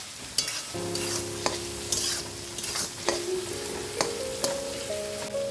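Coriander stems added to hot oil in a pan for a handi chicken dish, with a steady low sizzle and occasional sharp utensil taps against the pan over a few seconds.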